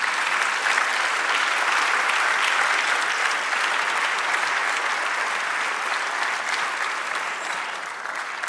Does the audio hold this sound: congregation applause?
yes